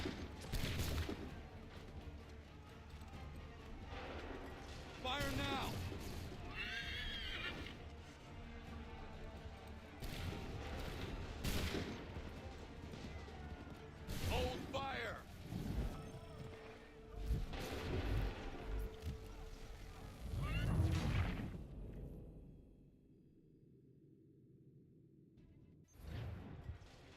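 Musket volleys from Assassin's Creed III crack out again and again across a battlefield, loud and layered, with repeated booming rounds of gunfire that fade to a quieter tail near the end.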